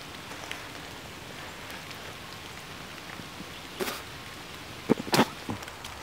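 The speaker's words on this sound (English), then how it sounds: "Alright, obviously, rain's coming down." Rain patters steadily in the woods, a soft diffuse hiss with a few sharper nearby drips and knocks toward the end, and no talking.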